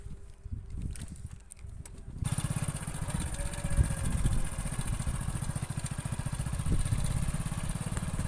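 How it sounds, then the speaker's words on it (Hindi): A motorbike engine runs steadily throughout at close range, a loud continuous mid-pitched drone that kicks in after a short quieter stretch of wind and rustle at the start. "हम लोग बाइक पर ही बैठ जाते हैं।"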